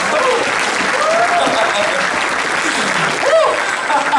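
Church congregation applauding during a Spanish-language sermon, dense continuous clapping with voices and exclamations rising over it, loud and close throughout.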